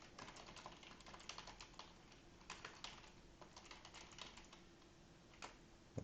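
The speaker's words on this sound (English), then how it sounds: "maybe I should just kind of type these out real quick right here" Quick bursts of typing on a computer keyboard, light clicky keystrokes in uneven runs with short pauses, close and fairly quiet against a faint steady hum, no talking.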